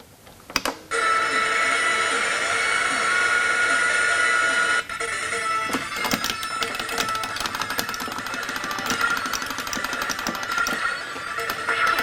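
R-Type 2 arcade game running on a bamboo SuperGameCo mini arcade machine: bright electronic tones and synthetic effects, a steady ringing tone at first, then busy layered game music and blips, moderately loud and continuous.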